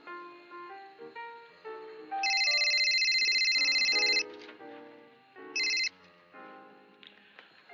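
A telephone rings with a bright electronic ringtone in two bursts, one long and one short, over a background bed of music.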